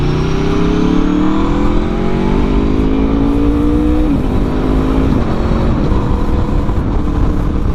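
A 2024 Aprilia RSV4 1100 Limited Edition superbike engine runs hot on a very hot day, a steady loud mechanical drone with rising harmonic tones that dip briefly around the middle, with no talking.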